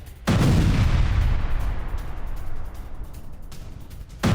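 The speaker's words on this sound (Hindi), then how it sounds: "रूसी बेस बिल्डिंग में किया बड़ा धमाका" A sudden heavy boom from an explosion at a Russian base building hits, then a long rumbling roar decays over several seconds, followed by a second sharp blast at the end.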